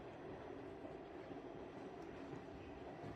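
A Queensbound New York subway train, heard as a quiet, steady rumbling roar with a continuous broadband wash and no distinct clanks or voices.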